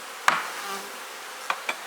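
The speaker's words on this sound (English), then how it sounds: "So I'm going to shake these bees down." Honeybees shaken down off a hive frame in damp weather, heard as a sharp knock followed by a short soft rush, then two quieter knocks near the end, all close up with no talking.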